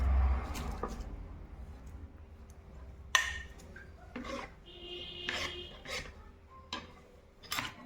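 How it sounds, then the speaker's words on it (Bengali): Plant material is ground into a fine paste for homemade organic colour with a rolling pin, giving repeated rasping, scraping strokes of uneven rhythm, close and moderately loud, with small knocks and clicks between them. "এবার এটা আমি একটা বেলনির সাহায্যে এটাকে ভালো করে একদম ভালো করে মিহি করে নেব।"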